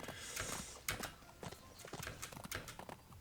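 Horse hooves clip-clop in the video game Bibi & Tina: Adventures with Horses, a quick run of close, moderately loud thuds in an uneven galloping rhythm with no talk over them.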